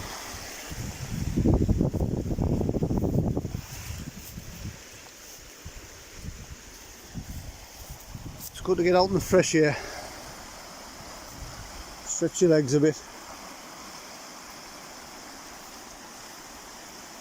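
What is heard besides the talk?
river flowing on a riverside walk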